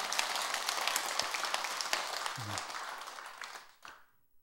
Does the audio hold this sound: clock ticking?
no